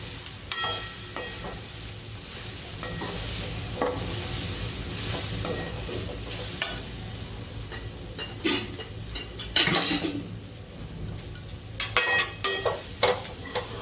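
A utensil stirs and scrapes crumbled millet flatbread in a pan over a soft sizzle, with irregular clinks and scraping bursts and no talking.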